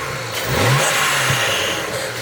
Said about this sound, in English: What you're about to hear now is predominantly the intake.